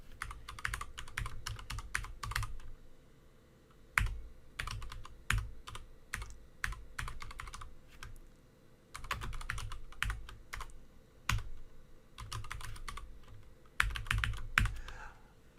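Bursts of rapid keystrokes on a computer keyboard while code for an Arduino Uno sketch is written, close and clear, with pauses between flurries of typing and no talking.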